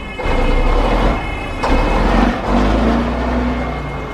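A diesel multiple unit engine on the West Somerset Railway revs up in surges, a loud close roar that swells, dips briefly and rises again before easing off, with no talking.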